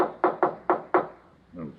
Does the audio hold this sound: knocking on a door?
yes